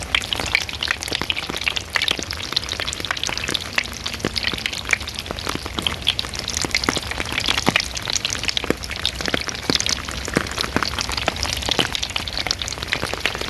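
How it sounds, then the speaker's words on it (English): Rain falling on a cheap styrofoam surf board left outdoors makes a dense, steady stream of sharp snapping, crackling and popping clicks, close and continuous throughout. "I left them out in the rain, and hopefully you can hear this good on the camera, but it's like a snap, crackle, pop."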